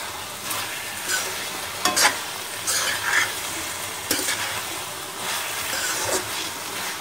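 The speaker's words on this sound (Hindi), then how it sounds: "हलवा भून चुका है।" Gajar ka halwa, grated carrot pudding flavoured with cardamom powder, roasted in a pan with a continuous sizzling hiss and intermittent scraping strokes of a spoon, close up with no talking.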